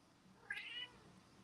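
A house cat gives a single short meow, fairly faint and close, against a quiet indoor background.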